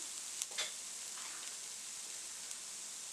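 Diced onion sizzles in hot sesame oil while cooking shrimp fried rice, a soft, steady frying hiss with a couple of light stirring clinks near the start.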